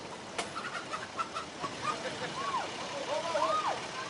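A chicken loose in rush-hour traffic near the Bay Bridge, giving a few faint clucks and squawks over a steady wash of passing vehicles, with a sharp knock early on.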